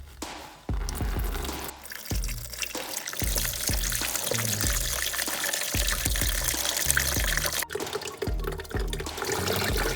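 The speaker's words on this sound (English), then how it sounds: "take a deep container and drain all the electrolyte content from the battery" Electrolyte liquid drains out of a dead car battery into a deep container, a steady near pouring and gurgling of liquid that runs throughout, with repeated low glugging pulses.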